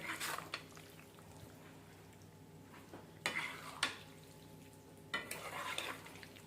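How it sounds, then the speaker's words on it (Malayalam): Lime pickle coated in chilli powder being stirred and mixed in a pot, giving several clattering scrapes and sharp knocks between quieter stretches of soft scraping. "ഇപ്പോൾ നന്നായിട്ട് മിക്സ് ചെയ്ത് കൊടുക്കാം."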